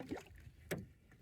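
A pack boat paddle stroke in water, using a J stroke, heard as a soft splash and swish followed by a sharper dip and pull, close by with light wind in the background.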